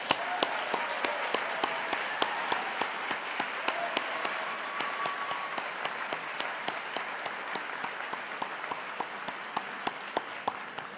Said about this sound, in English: Can I please ask for a round of applause for our amazing order,